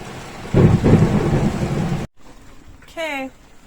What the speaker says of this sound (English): Okay, we're taking our first cruise in the rain.